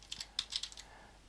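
Quick, light keystrokes on a computer keyboard while code is being written, a short burst of about eight crisp taps close up and fairly quiet, with no talking.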